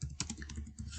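Quick, light key clicks from typing on a computer keyboard, close and quiet, in an irregular run of taps with no voices.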